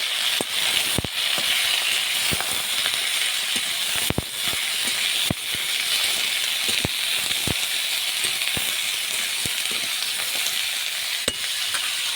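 Steady broadband sizzle of vegetables sautéing in oil in a kadai with salt and turmeric, with irregular scraping clicks from stirring throughout.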